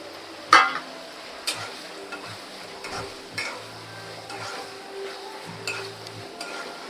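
Fried prawns go into a pan of simmering masala and are stirred, giving a close, quiet sizzle under repeated scraping and clinking of a spoon against the pan.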